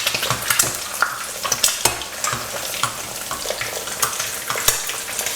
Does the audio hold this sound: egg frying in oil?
yes